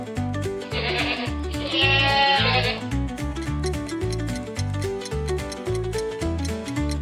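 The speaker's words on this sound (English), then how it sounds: "It's a sheep." A sheep bleats twice in quick succession near the start, loud and close, over a looping rhythmic musical backing with ticking beats that continues throughout.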